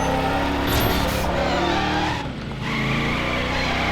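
A car in a driving video game skids hard, with a loud continuous roar of engine and squealing tires that dips briefly before surging again.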